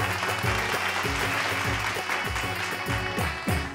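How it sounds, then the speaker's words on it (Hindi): Audience applause on a Bhojpuri TV game show, steady and loud throughout, layered over the show's rhythmic music beat. "जोरदार तालियों के साथ"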